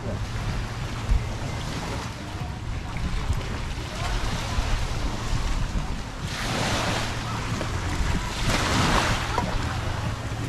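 Sea surf washes steadily onto the beach at Tian Thale Beach, Sattahip, Chonburi, with broad swells of wash rising around six and nine seconds, blended with wind rumble on the microphone and a low steady hum.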